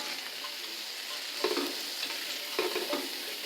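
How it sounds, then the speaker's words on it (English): Kielbasa sizzles steadily in a hot pan with bacon drippings, with a couple of soft stirring scrapes breaking through the constant frying hiss. "get these frying"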